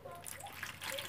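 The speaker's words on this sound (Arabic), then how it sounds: "باش نحط لهم شوية ماء" Water poured into a Tunisian summer salad dressed with lemon juice, mustard and mint, a soft steady splashing trickle that runs briefly close by in a quiet kitchen.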